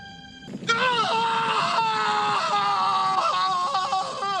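A dramatized anguished scream of a man entering a house after a massacre, a long wailing cry rising and falling over several seconds, loud and close.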